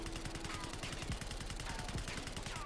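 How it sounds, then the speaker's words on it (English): Rapid bursts of PP 919 submachine gun fire in Black Ops 6, a dense automatic rattle running throughout with layered game effects. "Next up, we've got the PP 919, and we'll look at the recoil here."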